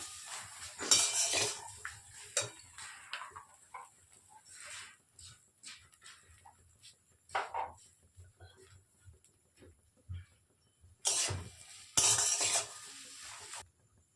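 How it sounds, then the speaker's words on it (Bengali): A spoon scrapes and clatters against a pan as a samosa filling mixed with dry-roasted whole coriander, cumin and chilli is stirred, giving irregular bursts of metallic clinks and scraping with quiet gaps, no talk. "দিয়ে আবার একটু নেড়ে নিলাম"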